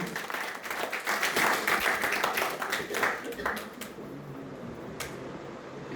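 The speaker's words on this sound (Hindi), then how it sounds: "जबरदस्त तालियां होनी चाहिए" Audience applause at a business presentation, dense clapping building loud for the first few seconds, then thinning and fading toward the end.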